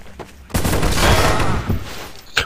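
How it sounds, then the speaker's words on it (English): A loud, dense burst of gunfire in Counter-Strike: Source rattles for about a second and a half, followed by a separate sharp shot near the end. "you can shoot through the foliage"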